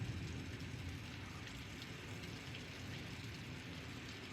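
Heavy rain pours outside during a thunderstorm with tornado conditions, a steady dense roar with low rumbling underneath, heard faint and continuous without voices.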